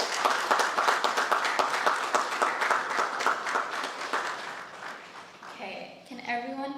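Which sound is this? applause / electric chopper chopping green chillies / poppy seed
applause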